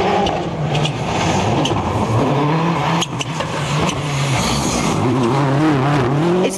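Marcus Gronholm's Peugeot 307 WRC rally car blasts along a gravel stage, its engine loud and close, revving hard with gear shifts, brief lifts and gravel crunching under the tyres, with no voices.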